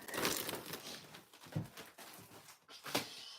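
A sheet of paper being picked up and handled, soft crinkling and rustling in several irregular bursts, fairly quiet and close.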